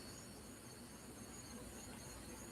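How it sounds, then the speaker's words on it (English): Crickets chirping outside at night, a faint, continuous trilling bed that stays steady throughout with no voices. "there's crickets out there"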